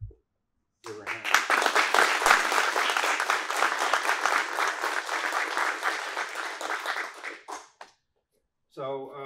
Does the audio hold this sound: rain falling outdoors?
no